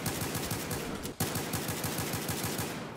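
Rapid, steady bursts of video game gunfire from a shotgun run almost nonstop with one brief gap, loud and up front with no talking over it.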